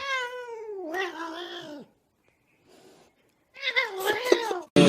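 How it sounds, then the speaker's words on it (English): A pet cat meows in several drawn-out, wavering cries, close and fairly loud, with a brief quiet gap between calls and a sharp noise at the very end. "Oh, kitty, I love you so much, beautiful cat"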